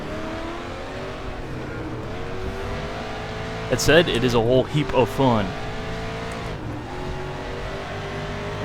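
A 1992 Mustang DTM race car in RaceRoom at the Nürburgring GP circuit, its engine holding a steady drone, then revving hard through rapid gear changes mid-clip, with someone talking over it throughout.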